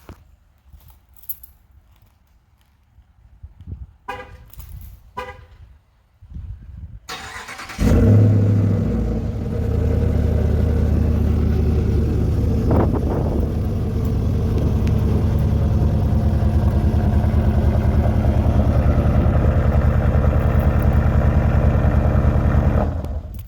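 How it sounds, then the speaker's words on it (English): A RAM Warlock pickup truck's engine starts by remote start after a few faint clicks, then settles into a loud, steady low exhaust rumble that carries on to the end. "we can hear the exhaust too."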